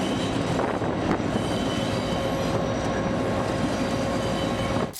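A train rumbles steadily along railway tracks winding through mountainous terrain, a loud, continuous roar of wheels and carriages with a faint high squeal running through it.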